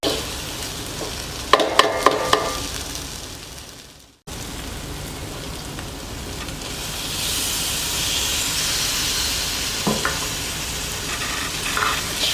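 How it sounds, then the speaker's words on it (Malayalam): Onion, tomato and lamb liver masala sizzles steadily in a hot pan while a spoon stirs and scrapes with a few sharp clicks. After a brief cut, the frying hiss swells louder and keeps going, with no one speaking. "നന്നായിട്ട് പിടിക്കാൻ വേണ്ടിയിട്ട് ഇളക്കി കൊടുക്കുക."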